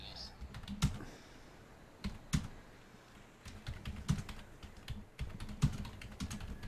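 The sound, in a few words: typing on a computer keyboard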